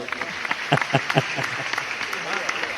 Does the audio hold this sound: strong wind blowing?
no